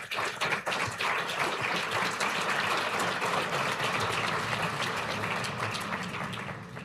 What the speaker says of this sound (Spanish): Aplauso para el Coloso.